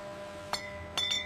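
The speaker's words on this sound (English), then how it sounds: "Listen to that ring." A freshly annealed glass bottle from a glassworks lehr is struck, giving a short clear clink and then a brighter double ring that hangs briefly, faint against a low factory hum.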